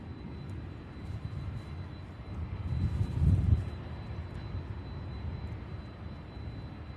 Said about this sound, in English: before the 747 here is landing right now